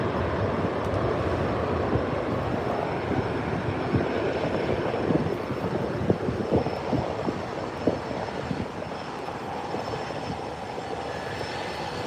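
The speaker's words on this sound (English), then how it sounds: "There we go, a Delta A319 coming in from" A Delta Airbus A319 lands on runway 24R at LAX, arriving from San Antonio, its steady engine roar broad and continuous at a moderate distance over outdoor airport background noise.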